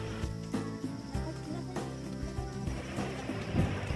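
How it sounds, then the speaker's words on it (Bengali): Crickets chirp steadily near a pond bank beside a bamboo grove in a breeze, a continuous trilling close by with no talking. "ঝিঝি পোকার ডাক।"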